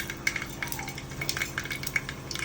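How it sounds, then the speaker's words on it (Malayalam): Mustard seeds temper in hot coconut oil in a pan for sambar, a faint continuous sizzle with small scattered crackles and pops. "വെളിച്ചെണ്ണ ഒഴിച്ചു കൊടുത്തു അതിന് എണ്ണയൊക്കെ ചൂടായി അമ്മ താളിക്കാൻ കടുക് കൊടുക്കും"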